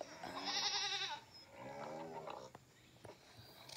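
Sheep bleat on a farm. A loud, wavering call is followed by a second, quieter bleat, then a few faint clicks.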